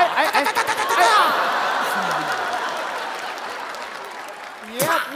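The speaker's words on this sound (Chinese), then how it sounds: "别鼓掌，别打了" Studio audience at a televised comedy show applauds and laughs, a sustained wash of clapping mixed with chuckles, with a performer's voice rising over it at the start and again near the end.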